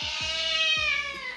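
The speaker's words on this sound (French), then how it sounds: "Un chacha pas content." An unhappy cat meows loudly and close, a long drawn-out complaining cry with a wavering tone, alone without talk.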